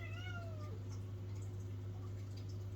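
An indoor pet cat gives a single drawn-out meow with a falling pitch at the start, over a steady low electrical hum that continues throughout.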